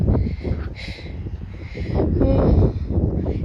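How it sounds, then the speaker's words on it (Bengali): Strong wind buffets the microphone on a rocky clifftop above the sea at Whitmore Bay, Barry Island, Wales, a constant low rumble with gusts surging and easing throughout, no voices. "অনেক বাতাস"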